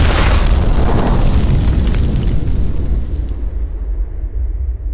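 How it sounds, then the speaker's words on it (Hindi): A bomb explosion in a 2019 Hindi-dubbed feature film gives a loud, close, broad roaring boom that fills the whole clip and slowly fades into a rumbling tail, with no talking. "अरे बम किसने फोड़ा?"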